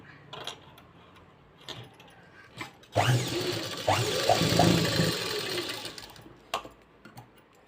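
Sewing machine stitching blouse pieces together, a few seconds of steady rapid mechanical whirring and clatter, bracketed by scattered clicks and handling noises.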